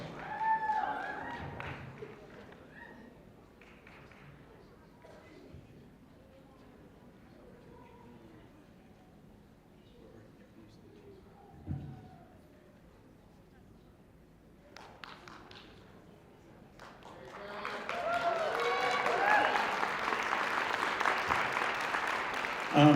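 Applause breaks out for middle school genre award winners at an awards ceremony, building from scattered claps into a loud, sustained round of clapping near the end, with talk heard earlier.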